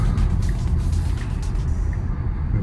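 A Tesla Model Y pulling away makes a low road rumble and tyre noise with faint whirring, steady and fairly close, without any engine roar.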